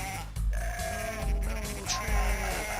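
Sheep bleat in the Dreamcast game Cool Herders, a few short bleats over busy game music, with the audio slightly rough.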